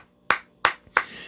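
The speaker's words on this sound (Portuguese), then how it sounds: "Olha só, gente, palmas." A few hand claps, three sharp separate strikes spaced evenly apart, close and alone with no voices around them.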